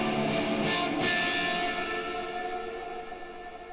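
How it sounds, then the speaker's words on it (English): A wash of reverberant sound from a Logic Pro X reverb effect tail hangs in the air and slowly decays, its bright, echoey tail fading gradually toward quiet. "adds in an effect tail for the reverb fading out"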